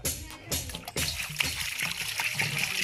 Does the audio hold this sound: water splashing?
yes